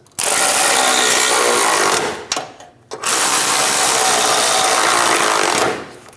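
A power ratchet rattles loudly up close while tightening nuts on a rear bumper step pad bracket of a Chevrolet Express 2500 van, two long sustained bursts split by a short pause.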